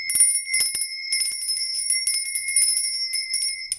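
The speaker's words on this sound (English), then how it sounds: "Now I'm going to ring a bell." A bell rung to cleanse the air: bright, sustained metallic ringing close to the listener, struck a few times at the start and then shimmering continuously for several seconds before cutting off.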